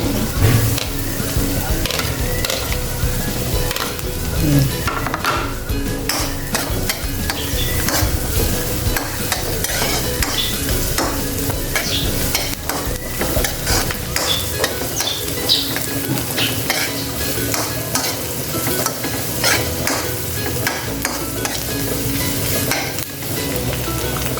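Onion and garlic sauté in a pan with a busy, crackling sizzle, punctuated by frequent scrapes and clacks of a utensil stirring against the metal, fairly close and loud.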